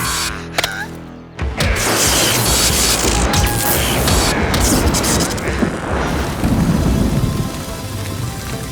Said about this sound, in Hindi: गरज बादल बिजली कड़का